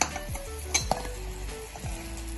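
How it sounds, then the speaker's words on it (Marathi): Vada balls frying in hot oil, a steady soft sizzle with a few sharp clicks and utensil knocks along the way, close and fairly quiet, no voices. "अशाच पद्धतीने आपण हे सर्व बॉल्स इथे तळून घेतो"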